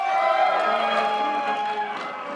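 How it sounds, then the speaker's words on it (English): An audience at a convention panel cheers and whoops in a steady, continuous roar that lasts throughout, with no single voice standing out. "There were some cheers."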